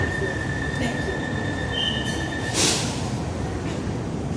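A Bangkok Purple Line electric train at a station gives a steady, loud rolling rumble with a thin electric whine running through it, plus a brief louder rushing burst near the end.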